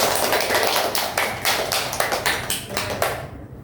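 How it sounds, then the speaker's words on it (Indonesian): A small group claps together in a brief burst of applause, a dense run of quick hand claps that stays loud and fades out at the end, no talking. "Beri aplaus sedikit."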